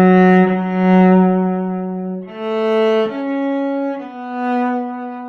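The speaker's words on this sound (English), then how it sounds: "So two quarter notes and a half note could sound like this." A solo cello plays two quarter notes and a half note drawn from an arpeggio, with clear, sustained bowed tones shifting pitch across a few repeated phrases and no voices.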